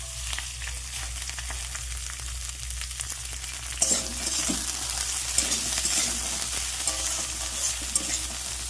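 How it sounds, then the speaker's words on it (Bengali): Drumstick flowers fry in mustard oil in a wok, giving a steady close sizzle with stirring scrapes that grow busier partway through, and no voices. "ফুলগুলো একটু ভাজা ভাজা করে নেব ভালোভাবে।"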